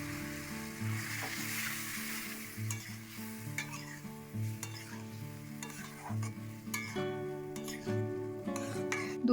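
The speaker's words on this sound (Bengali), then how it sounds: "এবার সেদ্ধ করে রাখা ছোলার ডালটা দিয়ে সব কিছুর সঙ্গে ভালো করে মিশিয়ে নেব।" Boiled chana dal being stirred into frying spices with red chili powder in a pan, a continuous sizzle with repeated rhythmic scraping strokes and occasional utensil clinks, close and clear over soft background music.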